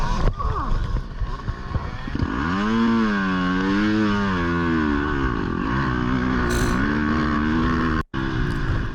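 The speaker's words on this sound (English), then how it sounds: "I stall it and the back wheel locks up." Motorcycle engine revving and then bogging down as it stalls, the back wheel locking up, with a wavering, sliding pitch that dips and recovers up close before a sudden cutout near the end.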